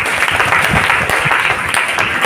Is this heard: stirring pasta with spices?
no